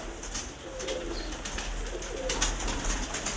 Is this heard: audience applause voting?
no